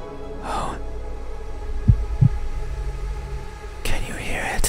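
Two low, close thumps of a heartbeat sound in quick succession in the middle, framed by breathy whispering before and after in a quiet room.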